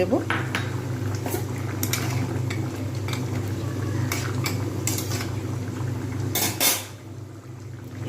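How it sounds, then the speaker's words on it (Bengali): Fried lentil dumplings (bori) go into a pot of simmering kohlrabi curry, with clinks of a spoon against the pot and stirring over a low bubbling hum, near and moderately loud. "এর মধ্যে আমি দিয়ে দেবো বড়িগুলো ভেজে রেখেছিলাম যে বড়ি সেগুলো"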